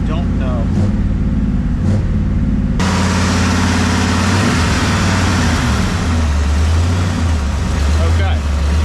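A 1967 Ford Mustang V8 idling high with a bent throttle cable: a loud, steady, close engine drone with a rough low rumble that swells and holds throughout, with a voice heard briefly at the start.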